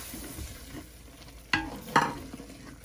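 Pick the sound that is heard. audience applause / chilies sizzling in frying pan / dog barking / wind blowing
chilies sizzling in frying pan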